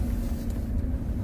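A car fitted with a new engine and turbocharger pulls away, giving a steady low engine rumble heard from inside the cabin.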